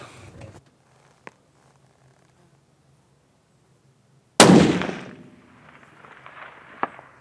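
A 6.5 hunting rifle fires a 130-grain Accubond bullet outdoors. After a quiet pause with faint clicks comes one sharp, loud shot with a rolling echo that fades away.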